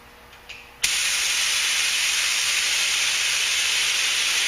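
Primer sprayed from an aerosol can onto Buick Century bodywork near the rocker panels, a loud steady hiss that starts abruptly after a faint click and runs continuously without a break.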